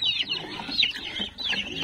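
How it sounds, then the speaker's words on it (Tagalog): Small bantam chickens cluck on a farm, a few close, choppy calls repeating in quick bursts with brief pauses between them. "Meron tayong manok dito. Bantam yan"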